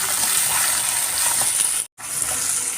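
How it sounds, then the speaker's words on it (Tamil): Shallots, ginger, garlic and dried chillies with a pinch of salt sauté in a hot pan, giving a loud, steady sizzling hiss that cuts out for a moment before resuming, with no voices. "நம்ம மற்ற திங்ஸ் எல்லாத்தையும் சேர்த்து வதக்கிக்கலாம்"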